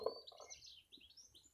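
A goldfinch sings outdoors in a short burst of high, twittering chirps, faint and somewhat distant, with quieter background noise.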